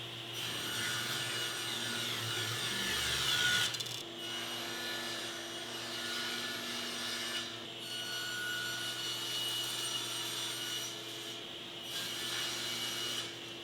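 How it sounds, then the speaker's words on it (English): Table saw ripping a book-matched cherry wood panel to final width, a steady loud whine with a brief heavier cut near the start and the same drone holding under faint background hum. "I'm going to rip the panel to its final width now"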